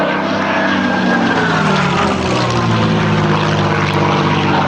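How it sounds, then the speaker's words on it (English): A Supermarine Spitfire Mk IX rolls through the sky. Its propeller engine gives a loud, close, continuous drone with a dense harmonic roar that holds steady throughout. "The classic luxury roll, ladies and gentlemen. You've got to do one of those if you're flying a Spitfire, haven't you?"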